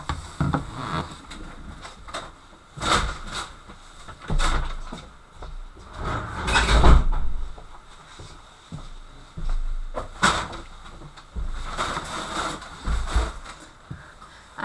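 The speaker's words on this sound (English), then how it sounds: "my cat is trying to open a door" A cat scratches and pushes at a door indoors, giving a series of irregular knocks, thumps and rattles that recur every few seconds over a quiet room, with no talking.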